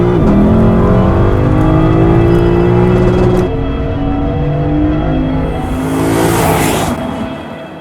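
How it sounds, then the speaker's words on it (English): A deep, throaty naturally aspirated V8 in a Lexus IS500 sports sedan rumbles and revs loudly up close, pitch shifting as it climbs and settles, with a brief hissy burst near the end. "Today you're looking at the Lexus IS500, and as you can hear, it sounds absolutely magnificent."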